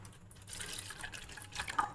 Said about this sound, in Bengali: এবার এই দুধটা আবার সসপ্যানে ঢেলে দেব।